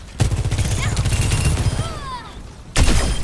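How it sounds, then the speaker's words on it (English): A railgun fires in Overwatch 2, with two loud heavy blasts bracketing a stretch of rapid firing and whining electronic effects, close and dense, with game voice lines mixed in. "Railgun powered and ready to fire."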